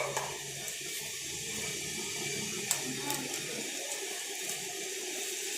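Water for instant noodles starts to boil in an electric cooker, making a faint, soft bubbling and hissing with a few small pops, close by and quiet.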